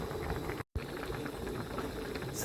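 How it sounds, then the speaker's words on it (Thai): A pot of fish soup with young tamarind leaves boils hard on the stove, a dense, continuous bubbling and rolling roar with a brief gap near the start. "อันนี้น้ำเดือดแรงนะคะ เอาปลาลงแล้วก็ให้มันเดือดสักครู่"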